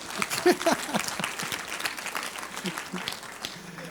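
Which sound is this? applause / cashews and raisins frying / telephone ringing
applause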